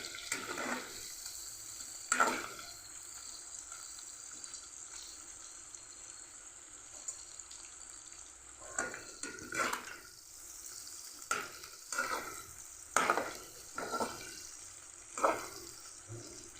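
Dried fish frying in a pan for a cucumber and dried fish curry, a steady low sizzle running throughout with a few louder crackles and stirring scrapes toward the end.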